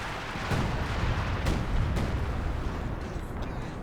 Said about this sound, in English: Royal Artillery being called in by prodi